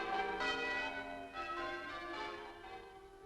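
Church bells rung by a team of miners peal in a slow overlapping sequence, with each strike ringing out and decaying into rich, sustained tones at a moderate distance.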